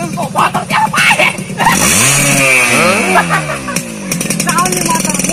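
A motorcycle engine revs up with rising and falling pitch sweeps, loud and close, while people talk and shout over it.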